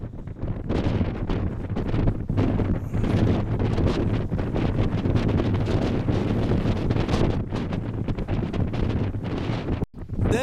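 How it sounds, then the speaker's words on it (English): Strong wind buffeting the microphone on a hillside walk up Pen-y-ghent in the Yorkshire Dales, loud, gusty roaring rumble throughout with brief drops. "As you can hear, it's pretty breezy on the way up."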